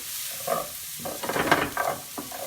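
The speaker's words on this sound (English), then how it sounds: "You want those onions to be browning a little bit in the ghee." Onions frying in ghee for a Devonshire pork and cider dish give a close crackling sizzle that swells with bursts of stirring, moderately loud, with no voices.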